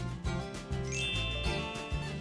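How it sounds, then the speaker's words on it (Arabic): A small bell rings with bright, sustained metallic tones that ding and shimmer over a busy musical backing, its clear high ring carrying through for about two seconds. "واو، جرس."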